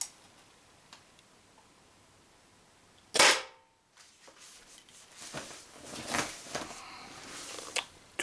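A Tippmann TCR paintball marker fires heavy 6.8 gram steel shots: one sharp, loud crack stands out in a quiet setting, followed by fainter clicks, rustling and handling noise.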